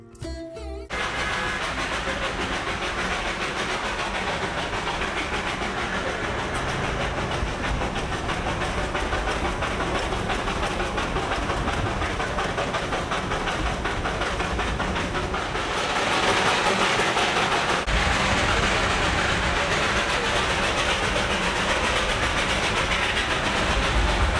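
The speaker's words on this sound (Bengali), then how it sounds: "রেলগাড়ি জোরে হুইসেল বাজাতে বাজাতে চলতে থাকলো" The Darjeeling toy train rattles along in the rain with a steady, dense rush of rolling noise that grows louder partway through. No distinct whistle stands out.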